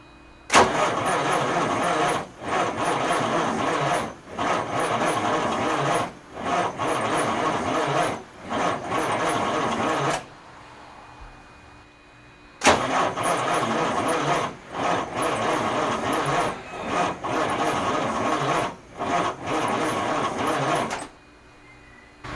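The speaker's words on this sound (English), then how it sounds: "Let's see if she'll turn over a little faster." A 1994 Freightliner Classic truck engine cranking without catching, long rhythmic starter-driven chugging bursts in two sets separated by a pause, close and steady in level.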